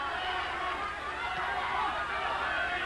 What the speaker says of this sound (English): Crowd urging Teddy Mann on.